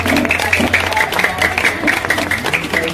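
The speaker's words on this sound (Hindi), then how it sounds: "जोरदार ताली के साथ में।" Applause from an audience at a Republic Day celebration event as a trophy recipient comes forward, a dense, steady clatter of many hands held throughout under a low hum.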